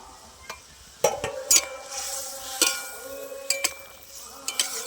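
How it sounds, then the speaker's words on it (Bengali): Fried potatoes, pointed gourd and prawns tipped into a simmering gravy, heard as a few sharp clinks and clatters of a utensil against the pot over a soft bubbling background, close and intermittent. "এবার ভেজে রাখা আলু আর প্রথম দিয়ে দিচ্ছি ভেজে রাখা চিংড়িটাও দিয়ে দিচ্ছি"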